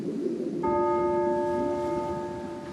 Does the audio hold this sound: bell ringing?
yes